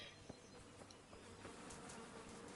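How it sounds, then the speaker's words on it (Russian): Flies buzz in the medieval game Kingdom Come: Deliverance, a faint, steady insect drone with occasional closer passes over a quiet ambient background, no voices. "Так, что там за мухи летают?"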